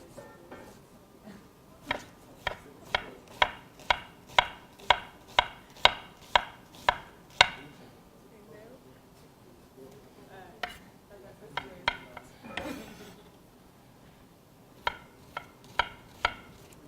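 A knife chops an onion on a cutting board in a brisk, regular run of close, sharp taps, then pauses before a few more scattered chops.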